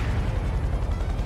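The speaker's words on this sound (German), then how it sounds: "Oh, unter uns explodiert alles." Explosions in the PlayStation 1 game Aconcagua make a brief, loud, deep rumbling blast that fills the short moment without any speech.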